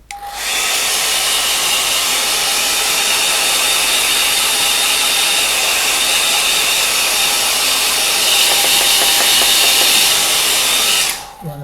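A hair dryer blows steadily for about eleven seconds while drying a watercolour painting. Its loud, continuous whir starts abruptly and cuts off at the end, with no talking.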